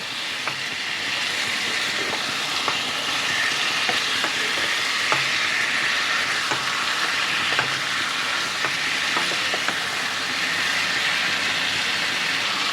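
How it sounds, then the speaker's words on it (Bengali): Chicken pieces frying in a kadai, a steady, continuous sizzle with faint clicks of stirring scattered throughout, even and close with no speech. "তিন চার মিনিট ধরে চিকেনটাকে ভালোভাবে ফ্রাই করা হয়ে গেছে।"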